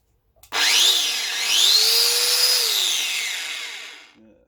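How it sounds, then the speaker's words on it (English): A brand-new Makita angle grinder with a small wheel spins up sharply from silence, whines loud and steady with rising and falling pitch for several seconds, then winds down. "So there's a new makita grinder anyway, you can see, brand new grinder."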